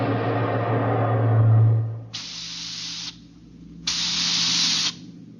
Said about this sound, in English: We could hear the desperate bursts of steam through the steering tubes as the Starfire maneuvered to dodge the enemy attacks.